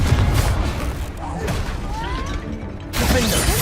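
Confringo fire spell exploding in Hogwarts Legacy gameplay amid combat, booming blasts and crackling impacts with heavy rumble, a loud burst returning near the end, under ongoing game voices.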